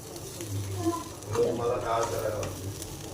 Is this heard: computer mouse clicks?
no